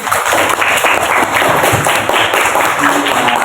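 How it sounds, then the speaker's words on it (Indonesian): Classroom applause for a pupil, a short burst of many children clapping together, loud and dense throughout. "Tepuk tangan untuk Wafi."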